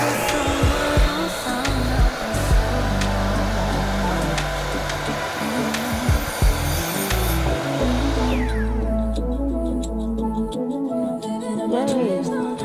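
A miter saw spins up and cuts through board and batten trim wood with a loud, high whine that runs for about eight seconds, then winds down with the motor rumble fading out.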